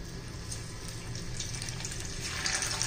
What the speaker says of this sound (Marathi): हे पहा आपलं तेल आता गरम झालेलं आहे. त्यामध्ये वड्या सोडून घेऊया मस्त अशा.